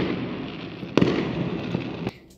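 New Year fireworks pop and crackle in a dense, continuous barrage at a moderate distance, with a few sharper bangs standing out from the rumbling layer.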